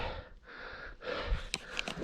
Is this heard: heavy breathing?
yes